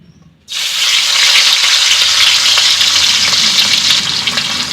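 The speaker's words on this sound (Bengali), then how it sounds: "আমি তেলটাকে খুব ভালো করে গরম করে নিয়েছি, এখন মাছগুলোকে দিয়ে দেব। প্রথমে আমি মাথাটাকে একটু ভেজে নেব।" Fish heads dropped into well-heated oil burst into a loud, dense, continuous sizzle that starts abruptly after a moment of quiet and holds strongly throughout, close up with no talking.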